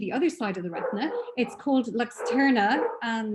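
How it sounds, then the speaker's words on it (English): A dog barks and yips in the background, several short, fairly loud bursts mixed in with a person speaking during an online webinar. "that was a dog in the background"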